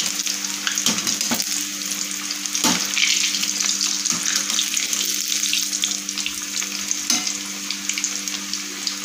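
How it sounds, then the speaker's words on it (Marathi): Potatoes fry in hot oil with a loud, continuous sizzle and bubbling, punctuated by a few sharp knocks and clinks of a utensil against the pan, with no voices. "तेलामध्ये मी व्यवस्थित तळून घेत आहे"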